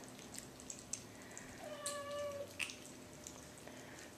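A small kitten gives a few faint, thin meows in a quiet room, short cries spaced apart over soft background noise.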